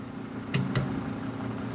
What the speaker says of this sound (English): Tired of you knocking the pictures down.